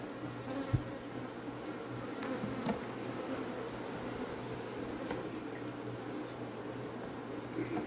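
A swarm of honey bees being caught from a neighbour's colony gives a steady, moderate buzzing hum that continues throughout with little change, alone with no talk.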